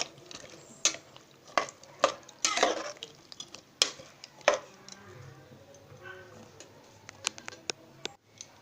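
A spice mix of salt and turmeric is stirred for steamed banana dalema, a run of sharp, distinct clacks and scrapes of a spoon against a bowl, loud at first and then tapering to lighter ticks.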